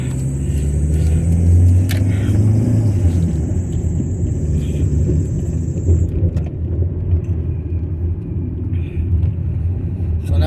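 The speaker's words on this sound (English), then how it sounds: "there's a lot of traffic in this town." Car traffic rumbles along a street in Hayward, a low steady drone of engines with passing vehicles close by and a faint high whine early on.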